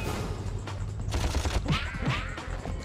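Rapid gunfire in Ratchet & Clank on PS2, a dense clatter of shots mixed with mechanical clanks and crashes, close and continuous over game effects.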